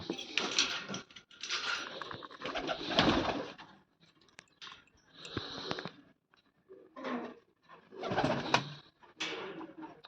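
Pigeons at a Punjabi loft coo in repeated low, throaty bursts with short pauses between, fairly close and clear, with light fluttering and patter mixed in.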